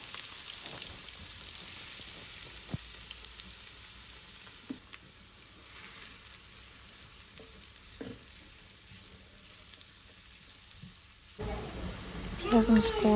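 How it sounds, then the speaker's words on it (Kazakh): Onions frying in oil in a hot pan, giving a steady broadband sizzle that runs throughout at moderate level, with a few faint clicks, and a louder clatter of stirring or handling near the end. "Қызып тұрған табамызға майымызды құйып, пиязымызды салып,"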